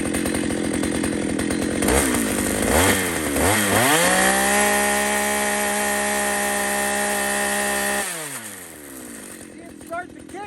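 Chainsaw running loud and close, revving hard as the bar bites into wood during a kickback demonstration, engine pitch rising and falling before settling into a steady high drone, then dropping back near the end.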